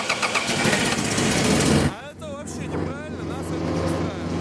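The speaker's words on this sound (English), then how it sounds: "Something went wrong, so the motor now starts like this." A faulty Uralchik motorcycle engine cranks with a loud rough rattle, then catches and settles into an uneven idle with wavering tones, all close by.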